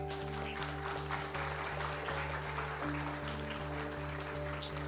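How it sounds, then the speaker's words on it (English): An audience claps for panelists after a constitutional justice panel at a law congress, a continuous wash of applause beneath a steady electrical hum with a repeating low tone. "let's give some applause to the panelists"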